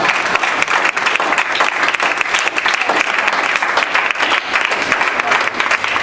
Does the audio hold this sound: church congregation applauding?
yes